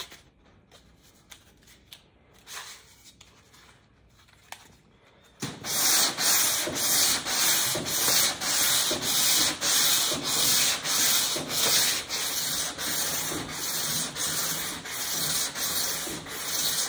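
Boat hull being hand sanded with a sticky-back abrasive roll: loud, steady rhythmic rasping strokes start abruptly after a quieter opening of handling sounds and continue back and forth, close and dominant.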